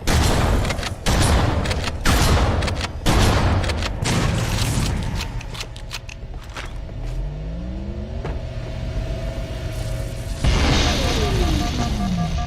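Gunfire and explosions in a Halo: Combat Evolved battle as a pulse generator is destroyed, with dense bursts of shots and booms at the start giving way to a steady humming drone and rising sci-fi tones, a voice briefly heard underneath.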